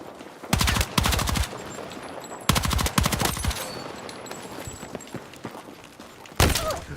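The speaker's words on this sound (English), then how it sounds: "That's a shotgun." Shotgun blasts in an online shooter game played on a ROG Xbox Ally handheld, coming as loud rapid bursts of repeated shots in three clusters over continuous game background noise.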